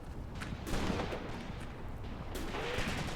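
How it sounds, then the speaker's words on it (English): A grenade bursts during a World War II infantry battle in the Graviteam Tactics: Mius Front game, heavy booms merging with a dense, continuous wash of gunfire and rumbling battle noise. "Throwing a grenade over here."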